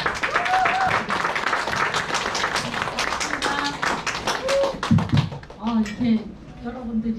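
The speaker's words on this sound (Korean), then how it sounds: "큰 박수로 맞아주세요." A seminar audience gives a burst of applause to welcome a speaker, with busy clapping for several seconds while a host talks over it, then thinning into scattered claps and voices.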